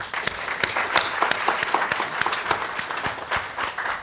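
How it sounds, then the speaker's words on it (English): Sustained audience applause after an actuarial conference talk, dense and steady at close range with a few sharp individual claps standing out, no talking over it. "A round of applause again for him."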